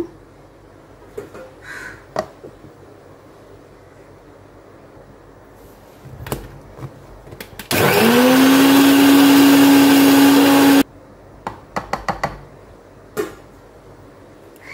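An electric mixer whips homemade mayonnaise as oil is added gradually, a loud steady whir of about three seconds standing alone between quieter stretches of scattered clinks and handling noises.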